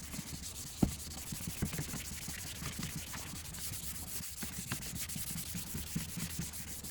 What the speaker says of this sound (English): Sanding this fender down